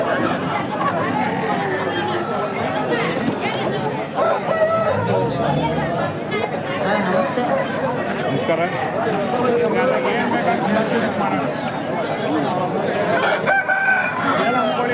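Roosters crow repeatedly amid clucking country chickens at a busy Saturday market in Akkirampura near Tumkur, with people talking throughout over the birds.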